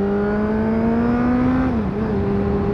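A car engine strains loudly in the wrong gear on an early-morning commute, a steady close drone whose pitch climbs gradually and then drops abruptly, with no voices.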